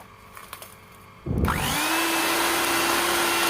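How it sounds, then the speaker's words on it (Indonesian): An electric kitchen mixer starts up after a few light clicks and handling noises, spinning up to a steady, loud motor whir that continues without talking. "Dan kita akan mulai mixer. Oke, kita siap-siap mixer."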